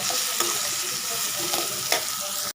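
Sambar ingredients sauté in a hot pan, giving a loud continuous sizzle with a few stirring scrapes and clinks, close and uninterrupted by speech.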